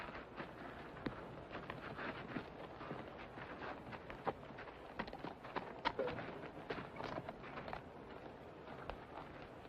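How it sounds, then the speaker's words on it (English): Horse hooves clip-clop at a walk on a cowboy western film soundtrack, a steady run of fairly close, moderately loud clops amid low ambient noise, with no talk. "Sergeant, I'd be obliged if you'd get me my horse."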